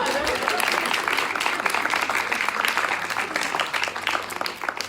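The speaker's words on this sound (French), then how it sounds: "Alors, je pense qu'on peut applaudir." Sustained applause from an audience at a lecture, a dense steady patter of many hands clapping for several seconds.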